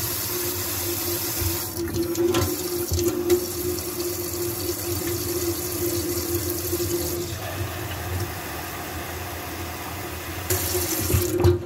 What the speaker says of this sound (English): I'm going to get a cup of water because my mouth feels dry.